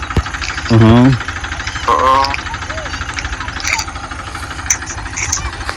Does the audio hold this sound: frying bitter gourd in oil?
no